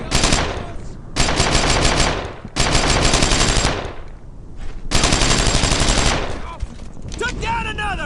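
Long, loud bursts of rapid automatic gunfire in Brothers in Arms: Earned in Blood come in several rattling volleys separated by short gaps, with a trailing ricochet-like whine near the end.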